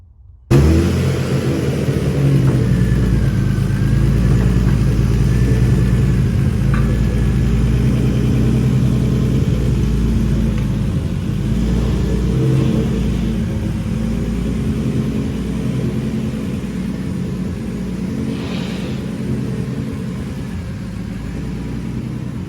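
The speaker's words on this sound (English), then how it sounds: "Give you guys an idea of what the new turbo says." A 2JZ engine fitted with a new Garrett GTX3582R turbo in an IS300 idles and rumbles steadily nearby, a continuous low engine drone with little change over its length.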